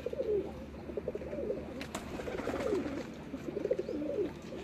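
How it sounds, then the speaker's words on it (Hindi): A Salara teddy pigeon coos on a rooftop loft, repeated soft, low rolling coos with a steady rhythm over faint background noise and no speech. "ये सलारा टैडी कबूतर है"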